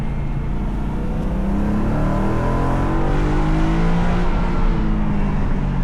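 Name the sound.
BMW M3 exhaust, heard with windows down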